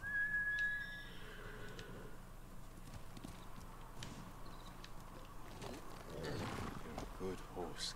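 The horse Kage in Ghost of Tsushima whinnies near the start with a high, tonal cry, followed by hoof clip-clops and ambient game sounds, while someone talks quietly underneath.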